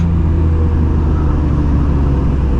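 A 1999 BMW M3 E36 with its S52 engine being double-clutched gives off a steady, close, low engine drone that holds at an even level throughout with no sharp revving spikes.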